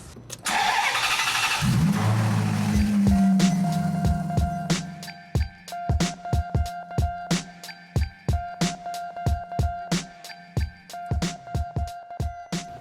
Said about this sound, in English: Nick, have fun starting a V8.